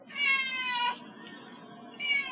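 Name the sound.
cat meowing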